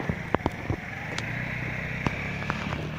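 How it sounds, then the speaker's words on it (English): A car engine idles at a roadside police stop, a steady low rumbling drone that runs throughout, with a few sharp knocks and clicks on top. "Leaving your engine idling's an offence, sir, under the Traffic Act, Road Traffic Act."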